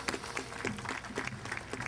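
Applause from a ceremony crowd for World War II veterans at a Veterans Day salute, a dense patter of many hands clapping steadily at moderate distance, faint voices mixed in.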